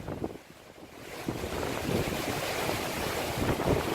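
Strong wind gusts from Hurricane Irma roar across the microphone, building from a lull into a sustained, loud rush of blustery noise with surging peaks and no voices.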